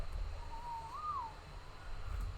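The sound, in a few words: snow owl hooting in video game Ark Survival Evolved Extinction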